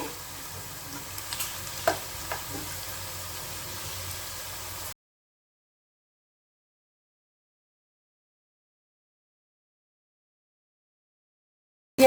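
Ginger-garlic paste frying with onions in a pan for chicken curry, a soft sizzle with a few light stirring clicks for about five seconds, then silence.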